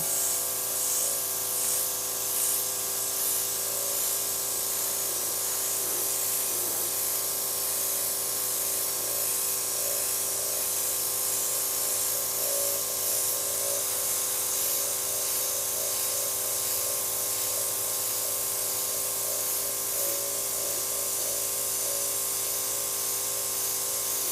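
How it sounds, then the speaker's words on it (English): A continuous hissing spray runs steadily throughout, loud and close, with no pauses. "I got nice spray on my hand, so let's start spraying."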